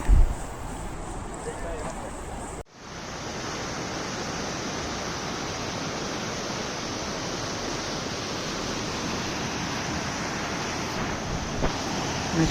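Steady broadband rush of the Kali River flowing in the Dandeli forest, a continuous close wash of moving water that fills the clip after a brief cut, with no voices over it.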